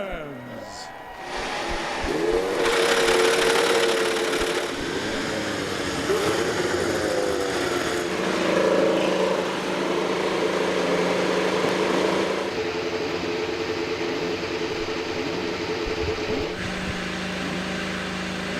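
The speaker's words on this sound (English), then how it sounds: "Racers, start your engines." IndyCar racing car engines start and run at Auto Club Speedway, a loud sustained mechanical roar with rising and shifting revs that continues throughout under crowd noise and talk.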